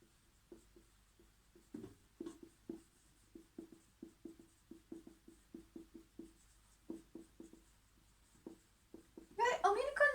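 Pen writing notes on paper or a board in a steady run of short scratchy strokes, close and clear, with a burst of louder rustle at the end.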